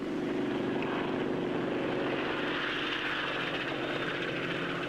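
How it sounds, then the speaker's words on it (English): Fairey Ultra Light helicopter with compressed-air tip jets on its two-bladed rotor, a loud steady roaring whine with a throbbing edge that holds unbroken throughout. "The Fairey Ultra Light can rise like a lark. It uses compressed air in pressure jet units at the tips of its two-bladed rotor"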